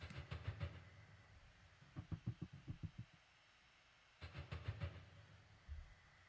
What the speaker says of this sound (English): Some noise here and there from the tram.